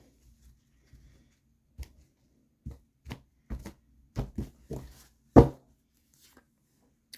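A deck of tarot cards is shuffled by hand in a quiet room, giving a series of soft, separate taps and riffles that build to one louder flick before falling silent.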